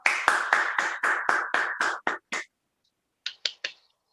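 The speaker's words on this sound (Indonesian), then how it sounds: "Tepuk tangan untuk kita semua" A classroom group claps in unison during a maths lesson: about ten sharp, evenly spaced claps in a quick rhythm, then a short pause and three more scattered claps, close and crisp with no talking.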